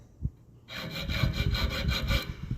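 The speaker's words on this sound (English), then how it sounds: "So I'm actually cutting back and forth once I get it cut close to where I want it." A bolt is cut by hand with a saw, with a steady series of about eight even back-and-forth rasping strokes, close and clear after a brief knock and pause.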